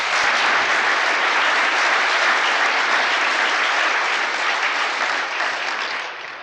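An audience at a 1974 urban forum lecture breaks into sustained applause: dense, steady clapping from a large crowd that holds for several seconds and eases slightly at the end, with no voices.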